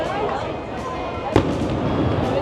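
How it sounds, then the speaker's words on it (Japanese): Fireworks or explosions going off in a crowded street in Malta on a Saturday: one sharp bang stands out over a constant dense crowd and street noise, not very close. "花火っていうかただの爆発やねんけど"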